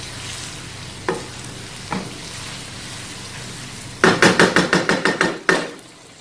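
Balochi tikka karahi sizzling in a pan, a steady hiss broken by a couple of clanks, then a quick run of loud metallic strikes near the end, close and without talk.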